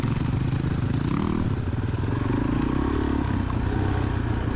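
A Suzuki DRZ400E dirt bike races along a cross-country course, its engine droning loudly and steadily close by with a chugging throb and light clatter from the terrain.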